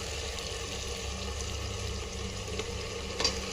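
Onions softening as they fry in mutton fat for mutton kosha, a steady low sizzle and bubbling that runs continuously, close by, with one small clatter near the end and no talk.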